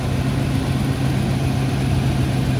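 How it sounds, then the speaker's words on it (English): A 1978 Chevrolet Corvette L48 with a small-block 350 V8 and four-speed manual runs steadily at idle, a loud, even low rumble held close throughout with no revving. "There's your small block 350 V8 engine."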